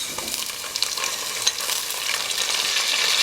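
Chopped onions fry in oil in a pan for a boal fish dopiaza, giving a steady close sizzle with stirring scrapes that builds slightly louder toward the end, with no talk.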